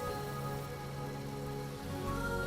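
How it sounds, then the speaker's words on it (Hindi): Heavy rain falls in a steady, dense hiss that keeps an even level throughout, with no voices. "बाजी बारिश नहीं रुकने वाली, सारी रात की लग रही है।"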